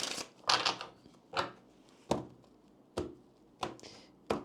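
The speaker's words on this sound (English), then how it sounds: "Go ahead and shuffle the deck here." A deck of Kipper cards being shuffled by hand, heard as sharp riffling bursts repeated about seven times in an uneven rhythm, close and fairly quiet, with no speech.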